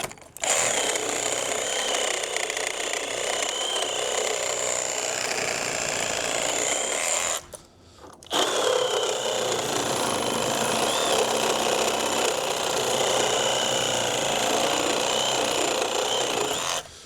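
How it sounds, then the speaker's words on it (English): Sawzall reciprocating saw cutting through a wooden deck railing during old deck demolition, a harsh continuous buzzing rasp up close, pausing briefly midway before resuming and running to the end, no voices. "So I'm just going to take my sawzall and I'm just going to cut down through this right here."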